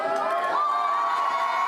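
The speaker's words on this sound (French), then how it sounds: "Entendez-vous la réaction de la foule?" Crowd at an amateur wrestling show in Mortagne roars and cheers steadily, a dense, sustained mass of voices with a rising shout partway through.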